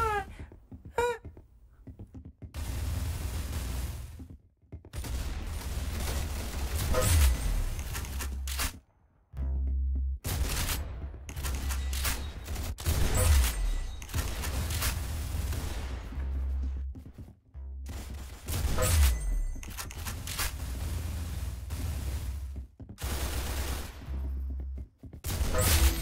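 Rapid gunfire from the Roblox shooter Arsenal in a free-for-all randomizer match, dense bursts of shots with thumping low end running nearly continuously, broken by a few short pauses.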